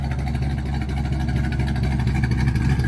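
A 1958 Plymouth Fury's fuel-injected engine runs steadily at idle, a loud low rumble with an even pulsing throb throughout.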